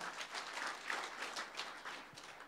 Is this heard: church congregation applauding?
yes